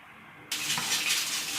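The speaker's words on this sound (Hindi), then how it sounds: "इसमें पानी डाल के हम उबालने रख देते हैं" Water poured into a pot of wheat being cooked for haleem, starting abruptly after a brief quiet and continuing as a steady, close-up rushing splash.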